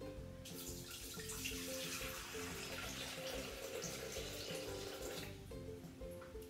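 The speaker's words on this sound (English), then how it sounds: "I'm going to put 600 grams of water in here." Water pours steadily into a cooking pot sitting on kitchen scales, about 600 grams measured out for steaming potatoes and vegetables: a continuous, fairly loud splashing rush that tapers off near the end, with no talking.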